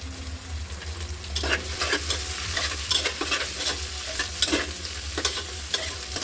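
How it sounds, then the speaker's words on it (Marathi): Potatoes and cauliflower sauté in a pan for khichdi, giving a steady frying sizzle broken by repeated scraping, stirring strokes; no one speaks. "फ्लावर छान परतले गेले."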